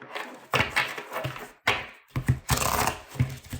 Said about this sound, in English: Oh yeah, they feel good to shuffle.